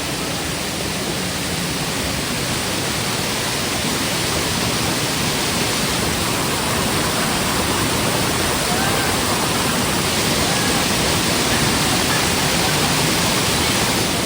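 Nivendi, also called Somtirth, waterfall roaring in the monsoon season, a dense unbroken rush of falling water that stays loud and close throughout.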